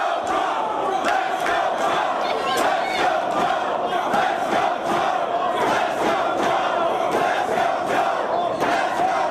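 Wrestling arena crowd cheering and roaring continuously, a loud, dense wall of voices with rhythmic bursts of chanting or stomping.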